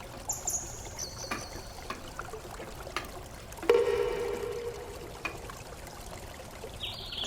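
Washed lentil dumplings (bori) tip into a cooking pot with a short trickling, splashing pour of water and soft clatter midway, near and fairly quiet, with light kitchen knocks around it.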